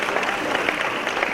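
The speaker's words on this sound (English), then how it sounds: "Let's give them all another round of applause for their exceptional work." Audience applause at the 2022 GMBA awards ceremony honoring awardees, dense steady clapping from a crowd throughout with no break.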